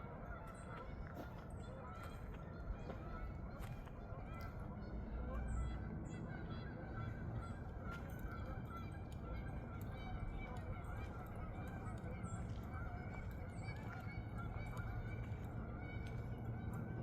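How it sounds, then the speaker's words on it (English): Many geese honk from out across a city park, repeated calls near and far over a steady outdoor background, with faint talk now and then. "Man, there are a lot of geese out there."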